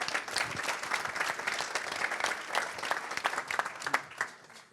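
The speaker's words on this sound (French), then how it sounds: "oui on peut applaudir, hein, on peut applaudir" An audience at an awards ceremony claps in a lively, uneven burst, individual sharp claps standing out within the crowd applause, moderately loud and tapering toward the end.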